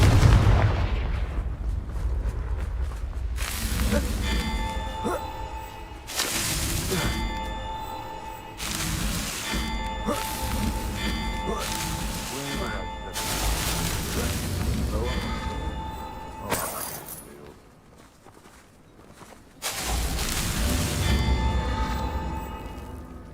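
Repeated booming blasts from the Confringo curse in Hogwarts Legacy on PlayStation 5, loud bursts landing every few seconds over dense game sound, with a brief quieter gap before the explosions resume.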